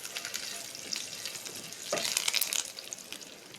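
Curry leaves and chilli flakes frying in oil in a pan for a pepper pasta, a steady crackling sizzle that flares louder as the leaves hit the hot oil, close and alone.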